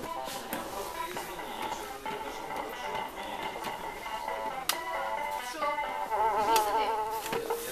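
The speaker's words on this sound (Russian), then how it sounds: "Муха какая-то была только что." A housefly buzzing indoors in a toy shop, a thin fluttering whine that drifts steadily under other shop noises with no talk over it.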